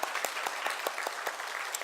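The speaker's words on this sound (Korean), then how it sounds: "크게 하나님 앞에 영광의 박수를 돌리겠습니다." A church congregation claps during a Sunday Christmas service, a brisk, moderately loud round of applause with distinct sharp claps standing out over a steady wash.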